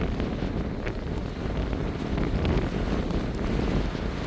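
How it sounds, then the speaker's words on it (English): Strong wind roars across a beach in a continuous, loud buffeting rush that batters the microphone, mixed with a faint wash of surf and no voices. "There's a clear indicator for you of how strong the wind is, apart from the sound."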